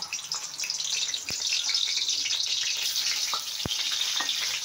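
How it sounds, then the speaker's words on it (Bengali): Shol fish frying in hot oil, a steady loud hiss and crackle close by that carries throughout with a couple of sharp pops, and no talk. "তারপরে আমরা মাছগুলো একে একে ছেড়ে দেব।"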